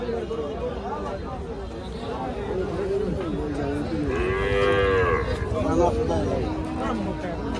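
Cattle moo loudly at a rural livestock market in Bangladesh, one long drawn-out bellow rising above the steady chatter and babble of the crowd.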